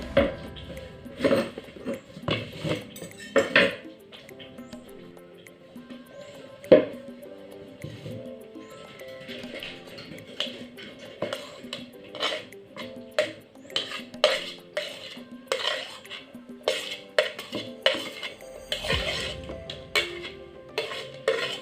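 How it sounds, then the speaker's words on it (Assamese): Cooked chutney ingredients are scooped from a pan into a mixer jar, giving a run of close clinks and scrapes of a spoon against metal and soft squishy knocks, all at an irregular rhythm. "এতিয়া মই এইখিনি মিক্সি জাৰ এটাত ভৰাই ল'ম।"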